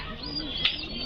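Lakkha fantail pigeons coo softly in a loft, a low steady murmur with two brief brighter calls standing out near the middle and end of the short stretch.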